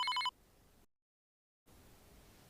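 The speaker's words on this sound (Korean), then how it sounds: "아, 마침 어머니한테 전화가 오네요" A telephone gives a short electronic ring burst at the start, then fades into quiet room tone with a moment of complete silence.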